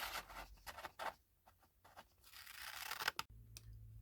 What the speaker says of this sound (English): I'm going to actually cut this out a little bit so I can tell a little bit more where I'm placing it